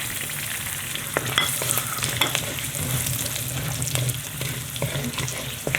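Green chilies and garam masala frying in a pan for dum aloo, a steady close sizzle with scattered spoon-stirring clinks and scrapes throughout, no talking.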